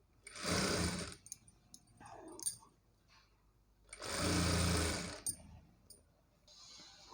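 Sewing machine joining blouse cloth runs in two loud bursts of about a second each, a steady whirring stitch separated by quieter handling sounds.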